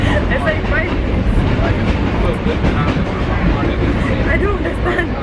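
A New York subway train rides between stops, its loud, steady rumble and rattle filling the car without a break, with faint voices murmuring underneath.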